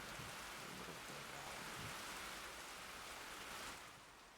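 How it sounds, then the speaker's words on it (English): Rain falls in a Minecraft modpack game world, a soft, continuous patter that stays even throughout and fades slightly at the end. "so we don't hear the rain"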